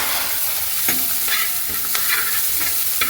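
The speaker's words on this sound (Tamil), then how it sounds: "நல்லா பொன்னிறமாக வதங்க விடுங்க" Onions sautéing in a pan with chilli and curry leaves, a continuous loud sizzle broken by several quick stirring scrapes, close and with no talk.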